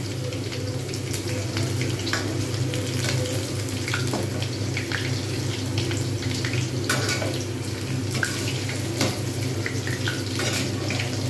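Small pieces of boneless chicken pakora frying in hot oil, giving a steady, dense bubbling hiss with scattered crackles and pops throughout, close and continuous with no talking.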